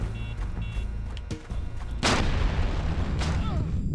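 A rocket explodes in the XIII video game, hitting as a sudden loud broadband blast partway through. It follows quieter game noise and a short dip, and a dense, sustained rumble with crackling debris carries on after it.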